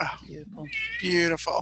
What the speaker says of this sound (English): I think that was a cat.